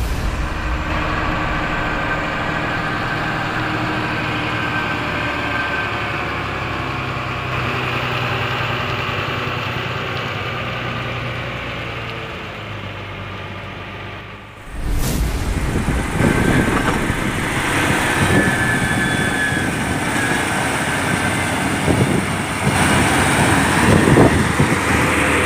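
Heavy trucks labour over a slippery obstacle on a rough road, with a steady loud engine drone that drops briefly and then returns harsher and busier, close and continuous, with no talk.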